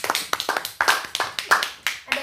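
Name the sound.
audience clapping hands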